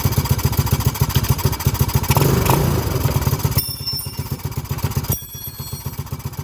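A Venom Grizzly 125cc ATV engine fitted with a Nibbi carburetor runs at idle, a close, loud, rapid rhythmic putter with a brief rev in the middle, then settling lower.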